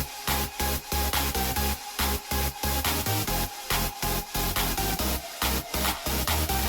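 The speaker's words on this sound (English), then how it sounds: "The moment I heard that bird chirp of a screech," A dubstep track playing loud and dense, with pounding rhythmic bass drops and a high, squeaky bird-like screech sitting in the back of the mix.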